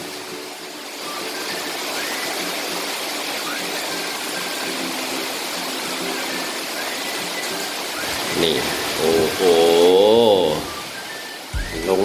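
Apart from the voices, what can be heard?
rain falling after long drought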